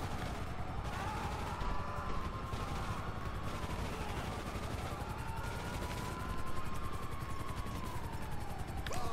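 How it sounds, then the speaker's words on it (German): Gunfire aimed at helicopters during a mission at the FIB building in GTA V Online, rattling automatic bursts over a continuous rotor drone and game effects, with a voice talking faintly underneath. "Wir müssen erstmal die Helis abschießen."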